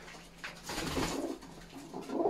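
Domestic pigeons, including an Armenian breed, coo in a loft: a few soft, low throaty coos rising and falling over about two seconds, close and fairly quiet, with no one talking.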